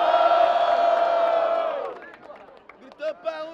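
Crowd at a Brazilian freestyle rap battle semifinal, Batalha do Coliseu in São Paulo, roaring and shouting loudly at first, then fading after a couple of seconds into scattered whoops and yells.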